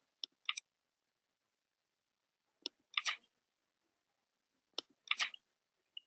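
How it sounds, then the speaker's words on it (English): Pages of a Story Jumper book flip in a quiet room, giving brief crisp paper swishes that come in three separate pairs spaced about two seconds apart, close and soft with silence between them. "You can actually hear the pages flipping."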